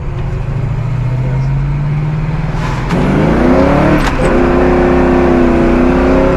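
A 1968 Camaro SS engine pulling hard while driving, loud close rumble rising in pitch through the gears with a shift partway and revving climbing again, no talk.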